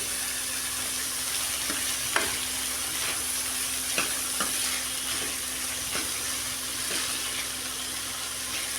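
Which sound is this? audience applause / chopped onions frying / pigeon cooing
chopped onions frying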